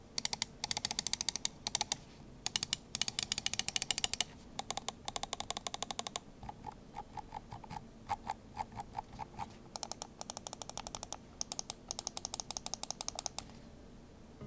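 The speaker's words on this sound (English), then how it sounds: "And to listen to the clicks." Rapid, crisp clicks from computer mouse buttons tested alongside a Zowie EC-style gaming mouse, sounding in dense bursts and steady runs of close, sharp taps with brief pauses between sets, no talking.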